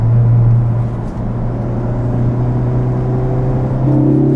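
A tuned Ford Focus ST pulls hard in third gear, its engine droning loud and steady from inside the cabin, with the pitch rising toward the end of the pull.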